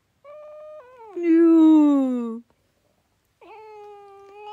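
A cat gives a drawn-out, wavering meow, then a louder, rising yowl held for over a second, and after a short silence a final softer meow; close and clear with no talk over it.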